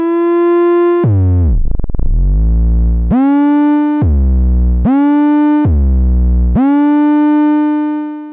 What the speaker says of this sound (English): That's the sound of the Vactrol adding some slew onto the sound.